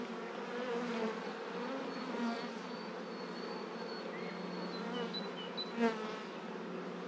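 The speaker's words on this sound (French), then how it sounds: "Vous avez vu, ça déborde d'abeilles." Honey bees swarming thickly over a hive frame, a steady close buzzing drone with individual bees whining past, continuous and fairly quiet.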